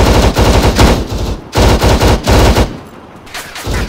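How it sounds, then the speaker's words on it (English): An armored BTR vehicle's machine gun fires in ArmA 3, loud, close bursts of rapid, evenly spaced shots broken by brief pauses. "There's another BTR to the southeast shooting at us."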